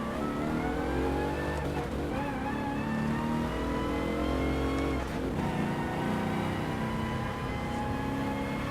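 A car in Gran Turismo Sport, played in VR, accelerates hard with a loud, steady engine roar that climbs through the gears, with brief dips at the shifts and no voices.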